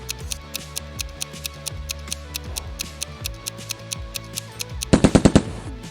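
A Glock 18 pistol lets off a short, rapid burst of sharp, loud shots at the end, following several seconds of steady, regular mechanical ticking.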